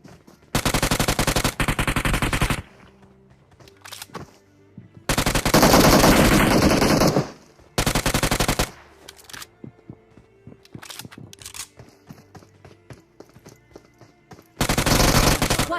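Heavy automatic gunfire in the video game PUBG Mobile, several loud bursts of rapid shots separated by quieter gaps with scattered single shots, close and dominant.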